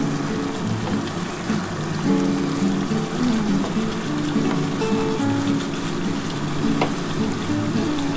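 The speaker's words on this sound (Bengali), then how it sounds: "এবার আমি জল দিয়ে দিলাম, দিয়ে আমি ঢাকাটা দিয়ে দিচ্ছি 10 মিনিটের জন্য" Chicken curry in a pot sizzles and hisses steadily as water goes in, a dense, even frying crackle that continues through the whole stretch.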